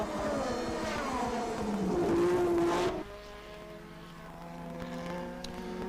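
Formula 1 race cars of the 1984 season scream past, a loud high engine wail that climbs and then sweeps away, followed by a fainter, more distant engine drone.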